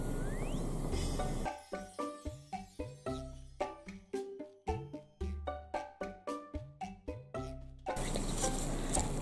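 An embossing heat gun blows over resin hydrangea-colored earrings, a steady broadband whoosh at the start and again at the end, with a stretch of light rhythmic tonal tapping in between.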